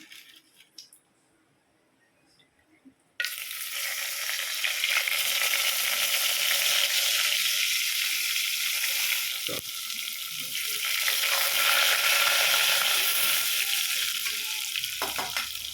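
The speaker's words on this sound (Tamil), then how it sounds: "இப்போ எண்ணெய் நல்லா காஞ்சிருச்சு. இதில் பட்டை, லவங்கம், சோம்பு அது எல்லாமே சேர்த்துக்கலாம்." Cinnamon, cloves and fennel fry in hot oil and ghee for a mushroom biryani, a loud, steady sizzle that bursts in suddenly after a few quiet seconds and keeps crackling with occasional stirring clatter.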